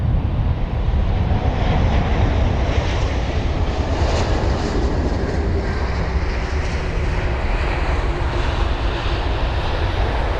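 Turkish Airlines jet on flight TK1971 from Istanbul touching down at London Heathrow, a loud, steady broadband jet roar filling the whole clip with no voices.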